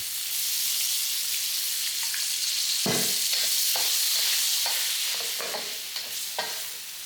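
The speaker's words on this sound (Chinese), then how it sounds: "把咸鱼炸香。" Salted fish frying in hot oil in a wok for a pork belly and salted fish claypot dish, a loud, dense, continuous sizzle with a few crackling spatula strokes.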